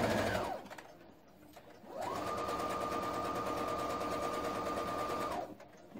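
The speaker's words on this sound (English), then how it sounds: "I'm going to stitch forward a little bit, and to avoid getting a hole I'm then going to stitch backwards." A sewing machine stitches fabric for an off-the-shoulder top, running briefly, pausing, then running steadily for several seconds in a close, even whir with no talking.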